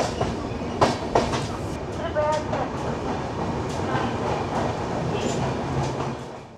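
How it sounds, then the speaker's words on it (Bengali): The 13054 Kulik Express rolls into Malda Town station, a steady clattering rumble of wheels over rail joints with sharp knocks and brief squeals, fading slightly at the end. "একশো 140 কিলোমিটার পথ অতিক্রম করে ট্রেন ঢুকলো মালদা টাউন।"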